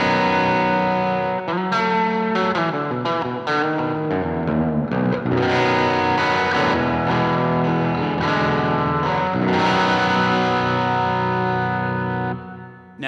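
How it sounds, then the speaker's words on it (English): Baritone Mule Resophonic Mulecaster, a fully hollow steel-bodied electric guitar, rings out through distortion and modulation effects, strummed chords and single notes ringing with sustain, loud and close with no talking. "it is a fully hollow, steel-bodied electric guitar, and it sounds incredible."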